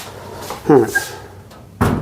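A storage cabinet door with magnetic latches closes with a couple of sharp wooden clacks near the start and end, alongside close speech.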